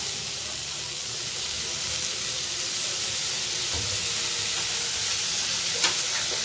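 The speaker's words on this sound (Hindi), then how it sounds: "मैं यहाँ पे पूरे वेजिटेबल्स ऐड कर रही हूँ, जैसा कि पटैटो और कैप्सिकम वगैरह सब कुछ यहाँ पे मैंने ऐड कर दिया अच्छी तरह।" Potato and capsicum pieces fry in a pan for a veg puff filling, a loud, continuous close sizzle with a faint clink of stirring near the end.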